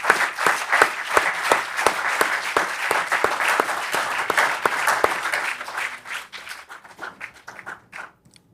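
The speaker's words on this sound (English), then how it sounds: "show our gratitude by a wide round of applause to thank each one who has ensured the success of this conference" Conference audience at a valedictory session applauding to thank the organisers, a dense sustained round of many clapping hands that thins out over the last few seconds into scattered single claps.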